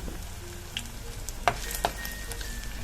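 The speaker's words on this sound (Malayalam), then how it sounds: "എണ്ണയിലേക്ക് ഇഞ്ചി ചെറുതായി അരിഞ്ഞത് ചേർത്ത് കൊടുക്കാം" Finely chopped ginger fries in hot oil for a papaya curry, giving a steady low sizzle with a couple of sharp clinks of a spoon against the pan, close and moderately quiet.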